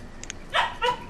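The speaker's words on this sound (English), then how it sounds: "That was my puppy in the background." A puppy named Lola gives two short yips and then two louder barks from somewhere in the room, heard in the background.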